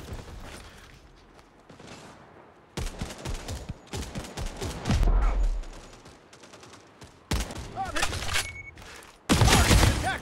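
Bursts of rapid turret gunfire in the Modern Strike Online mobile shooter during a deathmatch, loud salvos broken by brief pauses, with game voice callouts heard between the volleys.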